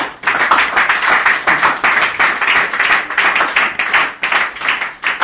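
A church congregation claps together during a sermon, a loud, continuous round of rhythmic hand clapping filling the room.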